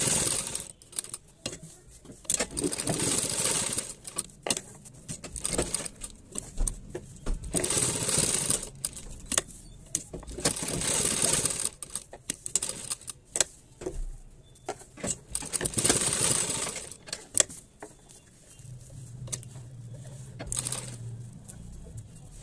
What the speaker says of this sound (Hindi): अब इस पर साइड साइड से सिलाई लगा देंगे